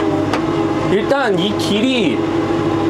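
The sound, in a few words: LS Mtron MT4 tractor engine while driving off-road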